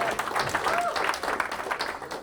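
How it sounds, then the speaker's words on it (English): Audience at a comedy club claps and cheers in a short, lively burst with a few whoops, fairly close and moderately loud. "Clap if you know what a rotary phone is."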